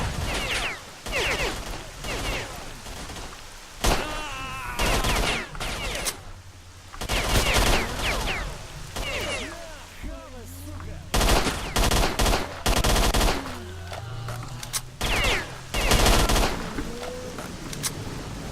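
Bursts of automatic gunfire from the player's weapon in STALKER: Shadow of Chernobyl, loud and close, coming in repeated volleys separated by short pauses, with some faint game sounds between them.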